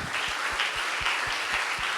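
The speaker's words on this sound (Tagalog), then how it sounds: "Pinakamalakas na palakpak para po sa ating pong Diyos." Congregation applause at a worship service: sustained broadband clapping from a crowd, steady and fairly loud throughout, with no talking over it.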